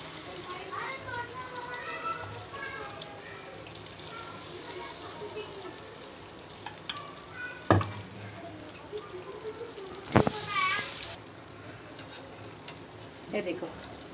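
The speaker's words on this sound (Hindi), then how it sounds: "ये देखो, अभी ये गोली भजिया बना रही हूँ मैं।" Konkani goli bhajiya fritters made from a buttermilk batter fry in hot oil in a home kitchen, giving a soft, steady sizzle and bubbling with a few sharper splashes. Someone talks at times.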